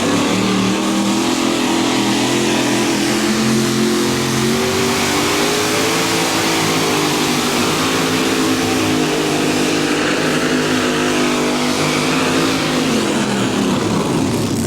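A pulling tractor's heavy engine roars continuously under strain at a 1994 mini rod tractor pull in Bowling Green, Ohio, its pitch climbing and wavering as it labors at high revs for the whole stretch.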